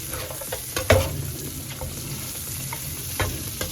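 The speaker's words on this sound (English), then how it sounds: "you're going to fry it on medium heat and stir it steady" Semi-dried sausage frying over medium heat with black olives, stirred steadily in a pan: a continuous low sizzle broken by scraping stir strokes, one sharper clatter near the start, close and moderately loud.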